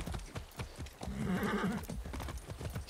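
Steady clip-clop of a horse's hooves trotting throughout in the game Far Cry 6, with a whinny rising briefly in the middle; clear and close, no talking.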